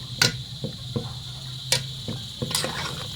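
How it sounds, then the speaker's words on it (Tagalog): Crickets chirp at night in a rural yard while dinner is being cooked, a faint steady high trill running under occasional sharp clicks and clatters from kitchen work, with no voices. "Tumutunog na yung kuliglig dito sa amin."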